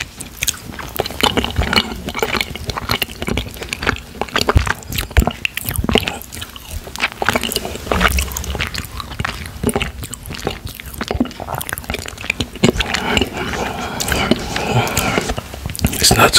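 Close-up chewing of mochi mango ice cream, soft sticky squishes and bites repeating throughout at high volume, with quiet speech mixed in at times.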